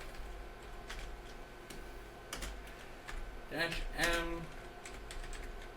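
Typing a command into a terminal on a computer keyboard linked to a Raspberry Pi, a few quiet clustered key clicks with a brief faster burst near the end, under low background hum and a quiet voice.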